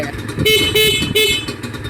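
The horn of a Honda NSR150RR motorcycle, sounded after engine work, gives three short, loud toots in quick succession at close range over a steady low background.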